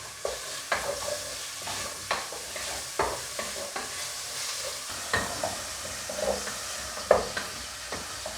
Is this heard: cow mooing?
no